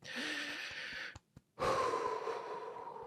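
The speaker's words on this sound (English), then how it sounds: "Just take a nice big deep breath as you tap." Someone takes a deep breath, first a long audible inhale, then a short silent pause, then a full breathy exhale, all close and quiet.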